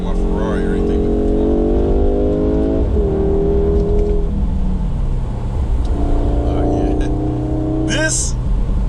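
A 2022 Audi S3 sports sedan drives on the road, its engine droning and rising in pitch through the gears, heard from inside the cabin with someone talking over it.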